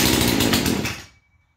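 A Poulan Pro PP4218 chainsaw runs on fast idle, a loud, rough, buzzing two-stroke drone that holds steady for about a second before cutting off abruptly into silence.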